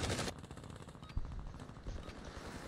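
Video game gunfire: a dense burst opens, then a rapid automatic rattle of shots continues at a moderate distance with no talk over it.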